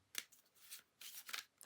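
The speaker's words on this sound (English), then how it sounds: "we've been having some problems here in the shuffling" A deck of cards is shuffled in close, quiet ASMR style: several crisp riffling bursts with short pauses between them, and no talking.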